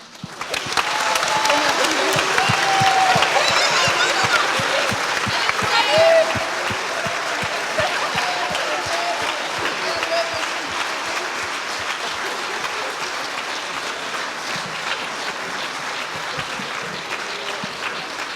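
Loud, sustained applause from a crowd after an eloquence contest, dense clapping that swells early, with faint voices and a shout or two, then settles into steady rhythmic hand claps lasting well over fifteen seconds.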